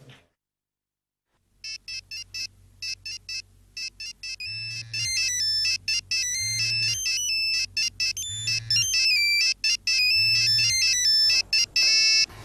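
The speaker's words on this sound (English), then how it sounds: "the phone is ringing from one of the rooms" After a moment of silence, a phone in another room rings with an electronic melodic ringtone, a bright repeating pattern of beeping notes over a soft low pulse that keeps going steadily.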